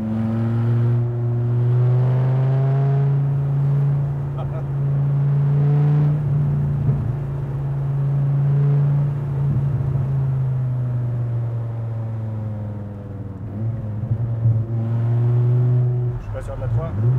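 A loud Dodge Viper RT/10 engine drones and revs on a circuit, pitch rising and falling through gear changes, with talking over it inside the cabin.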